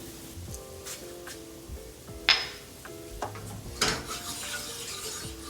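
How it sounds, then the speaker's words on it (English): A pan of heavy cream sauce for crab stuffed prawns is swirled on the stove, with a soft continuous sizzle and a few sharp clinks and scrapes of metal on the pan. "rotate your pan to incorporate all your flavors"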